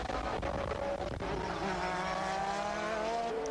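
1988 Formula One race cars, with Senna overtaking Gerhard Berger's Ferrari: loud, high-revving engines whine continuously with rising and falling pitch as the cars pass close by.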